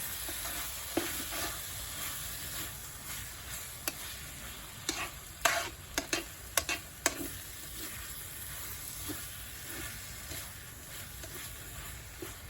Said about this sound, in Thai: ต้องคนตลอดเวลาหลังจากที่เติมน้ำตาล